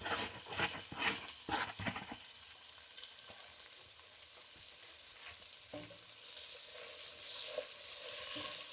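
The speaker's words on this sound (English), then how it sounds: "We're adding our carrots, our celery, and our onions. You can mix it around when I get through." Carrots, celery and onions for a beef stew sizzle in a pan, with a few stirring scrapes and clatters early on, then a steady frying hiss that grows slightly toward the end, close and fairly soft.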